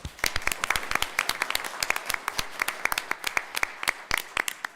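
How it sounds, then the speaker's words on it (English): Children and parents at a school board meeting clap for the parents, sparse individual claps with distinct sharp hand strikes in an uneven rhythm, fairly close and moderately soft. "Boys and girls, give your parents a round of applause."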